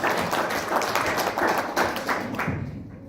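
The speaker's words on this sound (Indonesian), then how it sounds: "Tepuk tangan buat PT Bisa." An audience at a seminar breaks into dense, continuous applause, many hands clapping together at once, loud and sustained before fading at the end.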